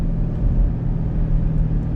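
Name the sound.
2023 Chevrolet Camaro SS engine rumbling while driving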